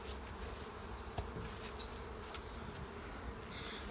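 Honeybees hum faintly around a hive being moved into full-size boxes, a soft, distant, steady drone with a few sharp ticks and knocks.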